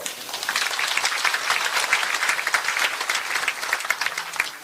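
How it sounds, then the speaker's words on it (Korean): A hall audience at a Gangwon Special Self-Governing Province briefing in Taebaek's arts center breaks into sustained applause, many hands clapping in a thick, slightly uneven roar that holds steady for several seconds, with no voices on top. "다시 한번 큰 박수 부탁드리겠습니다."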